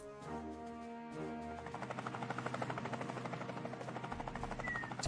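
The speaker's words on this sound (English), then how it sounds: "Just the chopper coming in" An approaching helicopter in the military base-building game One Military Camp, with steady rotor thumping that grows louder and more rhythmic over a sustained engine drone, joined by a tonal music-like hum early on.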